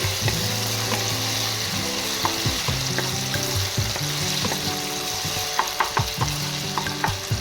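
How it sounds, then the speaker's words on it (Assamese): Ginger garlic paste frying in oil, a constant sizzle broken by rhythmic scraping of a spoon against the pan. "মই এই আদা ৰচুনৰ পেষ্টখিনি ভাজি ল'ম।"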